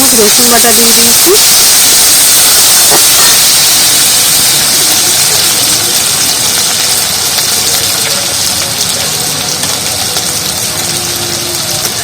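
Garlic paste frying in a pan with onion and ginger for a pumpkin and red lentil dish, a loud continuous sizzle and hiss under brief talk, fading slightly as it is stirred.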